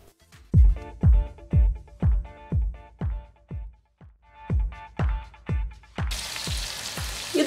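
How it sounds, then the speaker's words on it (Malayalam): Onions sauté in a pan for chicken curry as a utensil knocks against the pan in a steady rhythm, about a dozen strikes, before curry leaves go in with a sudden burst of loud sizzling. "ഉള്ളികളൊക്കെ നന്നായി ഒന്ന് വഴണ്ട് വരാൻ തുടങ്ങുമ്പം നമുക്ക് അതിനകത്ത് കുറച്ച് കറിവേപ്പിലയും കൂടെ ചേർക്കാം"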